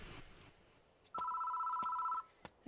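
A public phone box rings in the horror video game Death Mark, a steady electronic two-tone trill lasting about a second, clear and fairly close, with a few soft clicks around it and no talking.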